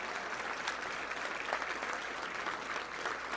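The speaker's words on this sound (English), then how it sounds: "Let's give a big round of applause for them." An audience at a Little Rock Touchdown Club luncheon applauds the Touchdown Club team, a dense, even roar of many hands clapping that holds steady throughout at moderate distance.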